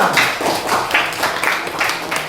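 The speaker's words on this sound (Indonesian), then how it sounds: "Oke, tepuk tangan semuanya." A class of students claps hands together in a room, a steady run of sharp, bright claps with a regular rhythm, moderately loud and close, with no talking over it.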